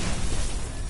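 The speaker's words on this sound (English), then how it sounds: "That grenade was helpful." A grenade explodes in the sci-fi shooter video game Destiny on Mars, a brief, dense, loud blast of broadband noise filling the whole moment with no voices.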